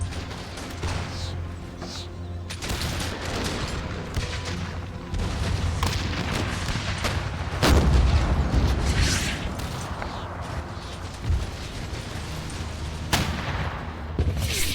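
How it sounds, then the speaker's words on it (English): Cannon and artillery fire booms during a siege battle in Empire: Total War, with heavy blasts and scattered cracks over a continuous battle din. "just keep firing your cannons."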